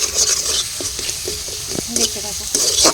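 Ground spice paste for chicken fries in a pan over a clay stove on a rooftop, a loud crackling sizzle broken by several quick scraping stir strokes, with no one speaking.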